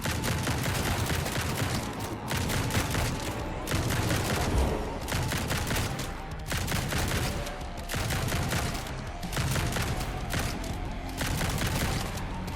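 Shotgun fire in the video game Grind Survivors booms in rapid, relentless volleys, dense and loud throughout with only brief regular dips between bursts.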